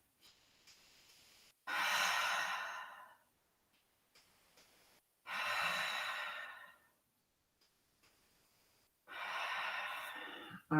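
Slow, deep yoga breaths come through as three long, audible exhalations, each several seconds long and separated by quiet pauses with faint inhales. They are close and alone, with no talk.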